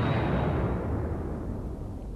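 An explosion in the video game Brave Fencer Musashi during a Relic Keeper boss fight, a loud booming blast at the start that decays into a rumbling tail.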